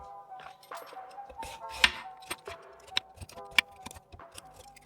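A knife cuts through peeled eggplant on a cutting board, a series of quiet, irregular chops and taps close by, with no talking over them.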